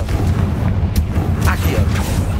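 Hogwarts Legacy Confringo blasting curse fires in a dense, continuous burst of rumbling low-end explosions, loud and sustained for the whole two seconds, with sharp crackling hits on top.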